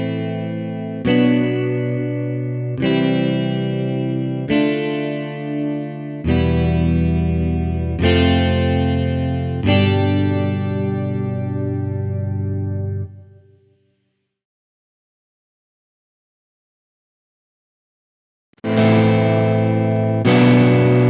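Electric guitar through an amp simulator playing distorted classic rock chords, a steady series of loud, sustained strums that stop abruptly, leave a few seconds of silence, then resume.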